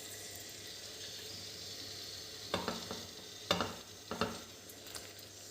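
Chopped garlic sizzles in a pan that is still heating, a faint, soft hiss in a quiet kitchen, broken by a few sharp clatters of stirring.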